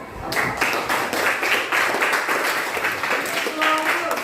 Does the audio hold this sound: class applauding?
yes